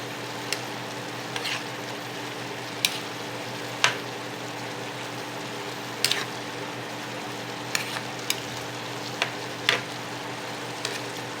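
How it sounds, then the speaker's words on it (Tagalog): Ginisang sayote with pork giniling stirred in a pan: a steady low sizzle of frying runs throughout, punctuated by sharp scattered clinks of a utensil against the pan, close and alone without talk. "Ngayon, haluin natin."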